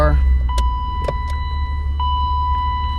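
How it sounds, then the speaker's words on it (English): A car engine turns over and settles into a steady low idle rumble, with a few brief clicks and chimes inside the cabin. "start the car."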